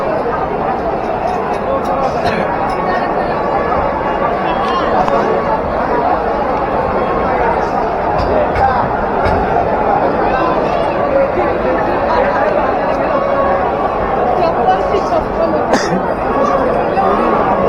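Dense crowd chatter fills a waiting queue at the Durga temple in Thane, a continuous, loud babble of many overlapping voices with no pauses.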